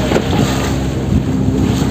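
Motorboat crossing the sea toward Malvan's sea fort, a loud steady engine drone blended with rushing wind and water noise close to the microphone, unbroken for the whole moment.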